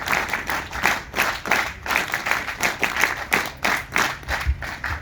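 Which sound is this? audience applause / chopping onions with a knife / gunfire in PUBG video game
audience applause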